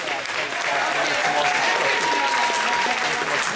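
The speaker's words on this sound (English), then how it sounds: "massive round of applause for all our guests" A crowd gives a big round of applause for comic book guests at a convention, the dense clapping steady and continuous throughout.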